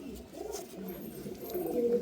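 Malbai pigeons give low, soft coos in a short rolling series, close and fairly quiet, with no clear talk over them.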